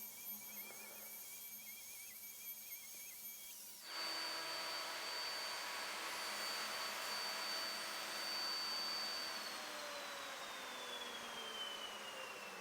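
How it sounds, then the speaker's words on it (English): Handheld router cutting wood for the grid of a three-stop continuo organ windchest, a steady loud whine starting abruptly a few seconds in and running continuously, with slight pitch shifts as the cutter moves back and forth. "So you can see the finish you get with the router is excellent."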